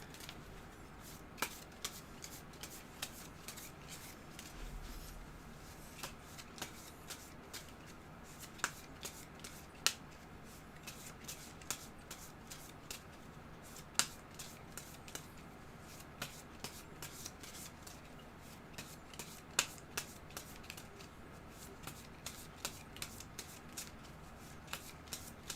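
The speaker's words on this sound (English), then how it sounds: "So I'm going to shuffle these." A deck of loot item cards is shuffled by hand for about 25 seconds, with soft riffles and repeated sharp clicks and snaps of cards landing, close up and fairly quiet, with no talking.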